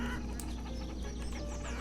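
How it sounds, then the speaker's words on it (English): A flock of chickens in the town-building game Banished, clucking over and over in a busy, irregular chatter from several birds under a low steady background drone. "I bought chickens. We got a whole bunch of them over here now. They're loud."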